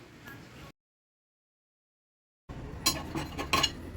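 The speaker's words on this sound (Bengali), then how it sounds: "এবার সবগুলোকে মিক্স করতে হবে।" A spoon clinks and scrapes against a bowl while uttapam batter is mixed, in short close clattering bursts, before and after a stretch of silence.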